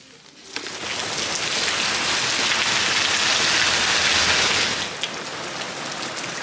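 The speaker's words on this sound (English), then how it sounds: "The rain came in heavy, but thankfully it did come in very heavy, but it's in like short bursts really" Heavy rain pours down in the seaside town of Ilfracombe, Devon, a dense, loud, hissing downpour that swells in a sudden burst, holds steady for several seconds, then eases slightly.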